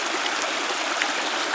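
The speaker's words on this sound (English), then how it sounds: "here's a little brook that runs down" A small brook running downhill near a cabin in early December makes a steady, close rush of running water that fills the whole stretch with no talking.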